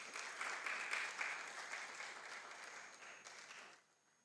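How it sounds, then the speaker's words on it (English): A crowd at a workshop applauding steadily to welcome a speaker, clapping that fades out near the end. "welcoming him with a round of applause"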